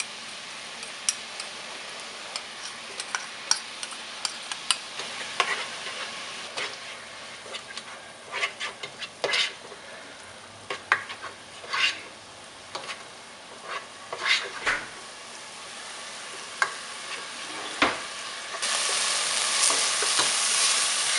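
Lemongrass paste stirred into simmering coconut milk in a pot, a steady soft sizzle with repeated scraping and clicking strokes of a utensil, close and alone, with a louder, hissier burst near the end.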